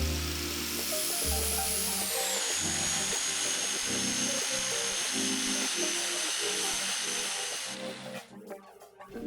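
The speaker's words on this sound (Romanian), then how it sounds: "am montat pe flex un disc din șmirghel folosit" An angle grinder with a used sanding disc polishes a steel part, whining loudly and continuously with a high, harsh grinding hiss, dropping slightly in pitch before cutting off near the end.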